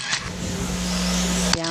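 Electric RC race cars at a national-level club meeting whine steadily around the track, a continuous high-pitched motor drone, with a race commentator's voice over it.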